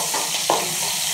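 Onion sautéing in a pan gives a soft, continuous sizzle with one brief stir or scrape, close and short.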